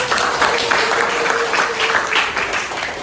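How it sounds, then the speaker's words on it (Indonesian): Classroom applause from a group of students, a dense, steady wash of clapping that fills the whole moment at close range, with no talking over it. "Luar biasa, Ibu mau tepuk tangannya sekali lagi dong."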